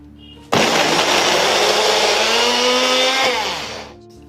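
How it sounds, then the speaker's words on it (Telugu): Electric mixer grinder blending a ragi flour laddu mixture starts abruptly with a loud, steady whirring roar, runs for about three seconds, then spins down. "ఇప్పుడు దీన్ని మిక్సీ చేసుకోవాలి."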